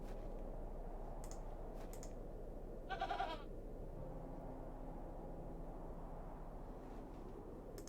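A single short goat bleat sounds in The Excavation of Hob's Barrow, a wavering cry near the middle, set against a quiet ambient background with a few faint taps.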